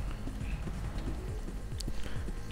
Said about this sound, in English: They don't even hear my footsteps.